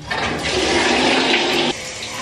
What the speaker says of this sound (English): then I'm gonna turn on the water